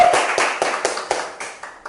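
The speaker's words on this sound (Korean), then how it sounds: "박수로 맞아주십시오." Slow, separate handclaps from a small audience, about eight distinct claps at a steady, unhurried pace, each fading quickly, with nothing else heard.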